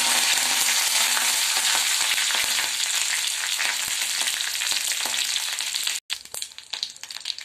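Dried chilies, black mustard seeds and curry leaves sizzle hard in hot oil for a tomato rasam tempering, a loud continuous fry with crackles and stirring, dropping sharply before some quieter spattering.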